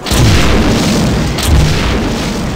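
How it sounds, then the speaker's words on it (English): Explosions in the video game System Shock 2, a loud sustained booming blast that rumbles through the whole moment, with a second thud swelling about halfway through. "Damn, these explosions are so loud,"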